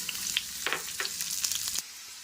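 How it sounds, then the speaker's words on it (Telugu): Onions frying in about two tablespoons of hot oil in a pan for a lady's finger fry, a steady close sizzle with a few brief stirring clicks, then cut off abruptly near the end. "ఆయిల్ అయితే హీట్ అయింది కదండి. ఇప్పుడు ఆనియన్స్ అయితే వేసేసుకుందాం"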